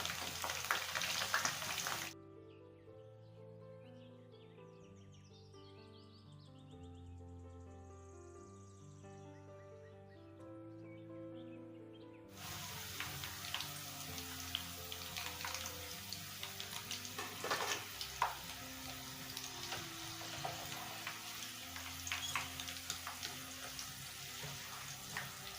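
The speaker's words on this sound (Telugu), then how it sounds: "ఈ పచ్చిమిర్చి ఆయిల్లోకి వేసుకున్నా." Green chillies drop into hot oil and fry with a soft, steady sizzle and crackle, quiet overall, after a brief louder burst at the start.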